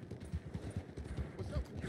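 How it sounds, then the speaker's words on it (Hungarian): Horse hooves trotting in the Red Dead Online video game, a quick rhythmic clip-clop heard fairly close, with a voice faintly talking over the steps. "Hú, de jó hangja van, ahogy itt üget a ló."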